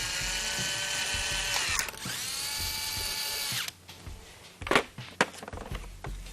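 A power tool snugging the transmission pan bolts on a Mini Cooper, two sustained whirring runs with a rising pitch, then clicks and clanks of handling parts, close and fairly loud with no talk.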